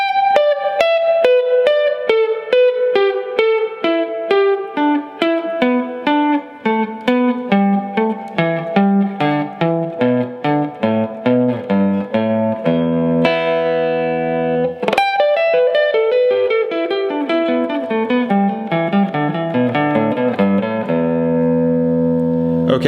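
Electric guitar playing pentatonic scale positions stacked in fourths, a rapid run of distinct picked notes in steady rhythm, close and loud with effects and light reverb, cascading across the fretboard, no talking.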